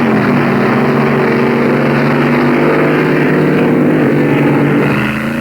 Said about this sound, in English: Some unintentional wheelies and one intentional one with Wild Bill Shrewsbury at the controls of the Hurst's Hemi Underglass